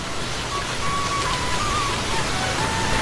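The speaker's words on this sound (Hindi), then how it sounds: "तभी अचानक बारिश शुरू हो जाती है।" Sudden rain over a street market stall, a dense steady hiss of falling drops that stays loud and even throughout, with a faint thin tone running underneath.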